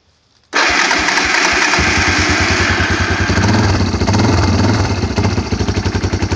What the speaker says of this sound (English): Again, no choke. These Yamahas are starting well.